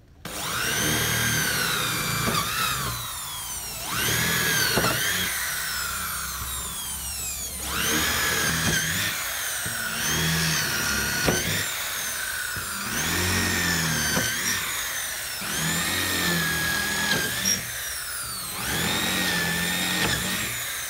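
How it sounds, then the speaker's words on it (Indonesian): An electric drill bores a series of holes in wood for a carved fretwork panel, with about seven separate bursts of high whining motor sound and brief pauses between them. "Saya lubangi menggunakan bor."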